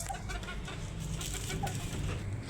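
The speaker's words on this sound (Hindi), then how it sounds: "ये देखो ये मुर्गा है भाई," Aseel rooster in a backyard mini zoo setup, giving soft low clucks and murmurs close by over rustling background noise.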